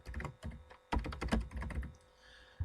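Fingers tap quickly on a computer keyboard, close and clear, in uneven bursts of keystrokes with a short pause before the final taps.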